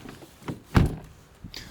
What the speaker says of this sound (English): I didn't close the door.